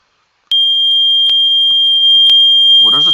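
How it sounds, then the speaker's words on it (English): A fire alarm system in the video game Roblox sounds a loud, continuous high electronic tone that starts abruptly with repeated clicks, and a voice begins speaking near the end. "there are problems with that thing too. Like where it keeps beeping after you acknowledge it"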